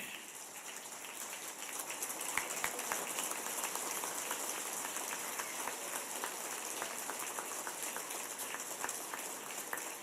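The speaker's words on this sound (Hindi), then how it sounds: "इनके लिए खड़े होकर ताली बजाइए।" An audience at a public speech stands and claps together, producing a dense, steady wash of applause with scattered sharp claps that builds slightly and holds at an even level for the full stretch, with no voices over it.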